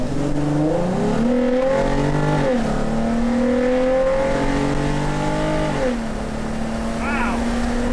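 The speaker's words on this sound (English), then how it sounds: "She has never been that loud before. That engine screams." An Infiniti G35's engine, fitted with an aluminium valve cover and cold air intake, revs loudly up and down through several climbing, falling pitches, close by, then eases toward a lower idle.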